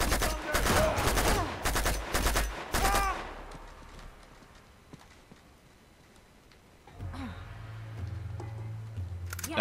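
Rapid bursts of machine gun fire in Uncharted 2: Among Thieves, set in Nepal, loud and close for the first few seconds with clattering shell-like ticks, then fading into quieter ambient game sounds.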